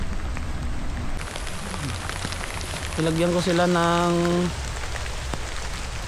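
Steady rain pattering on a surface throughout, with a person speaking briefly over it partway through.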